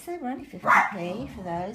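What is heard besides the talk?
dog barking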